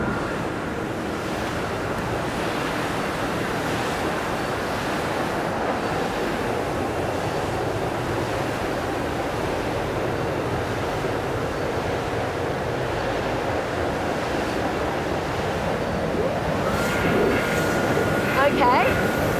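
Inside a bean processing and canning factory in Italy, machines run with a loud, steady, unbroken roar that fills the space and barely changes from start to finish.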